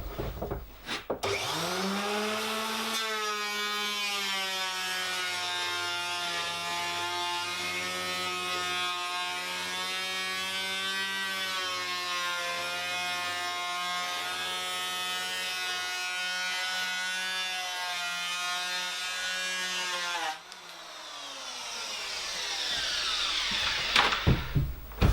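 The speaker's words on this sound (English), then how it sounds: "now we've got the sanding drum installed, I shall reduce the depth of cut to, well, goes to its lowest setting" A Triton Unlimited Rebate Planer fitted with a sanding drum runs steadily on wood with a loud, close, high whining motor hum. It spins up at the start, holds a constant tone for about twenty seconds, then cuts off and briefly restarts.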